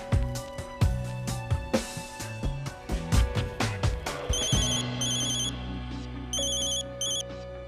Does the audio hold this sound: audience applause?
no